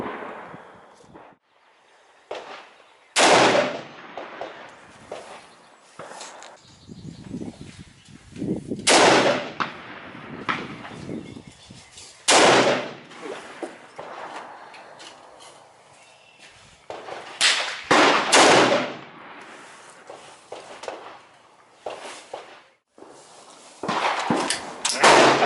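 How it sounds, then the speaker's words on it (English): Rifle shots ring out at an outdoor long-range shooting range, fired through a newly mounted Vortex scope: about half a dozen loud, sharp reports spaced several seconds apart, with quieter handling and movement noises in between. "There we go. First 5 rounds."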